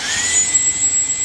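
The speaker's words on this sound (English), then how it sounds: "if you use that boost mode, by the way, let me show you that. It's loud" Dyson cordless vacuum runs in boost mode, a loud, steady high-pitched whine with an airy rush, close and continuous with no talk.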